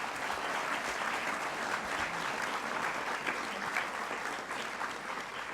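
An audience applauds after a round-table discussion on the future of insurance at an insurtech conference, a steady, dense clapping that lasts several seconds with no voices above it.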